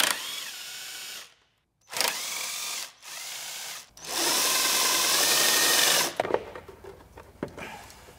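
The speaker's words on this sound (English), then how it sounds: "next we're going to remove this bottom piece that's held in place by these three bolts" Power tool driving out three bolts on a car transmission during a shifter repair: loud whirring bursts separated by short pauses, then a longer sustained run that ends in clanks and rattles.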